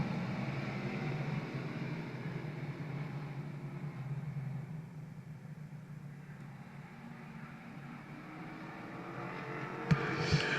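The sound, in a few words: late model sportsman race cars starting a race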